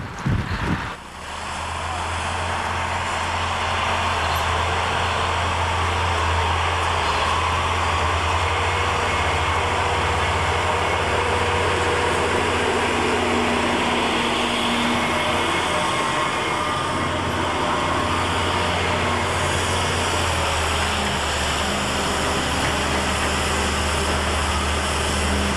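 Steady, loud engine rumble and drone of a Case IH Magnum 7200 series tractor at a 1993 farm show, holding a constant low hum with wind-like broadband noise throughout, after a brief sharp knock at the start.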